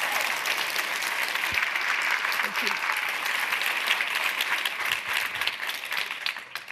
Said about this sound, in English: Let's just have a round of applause for that.